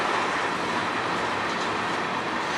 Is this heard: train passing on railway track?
yes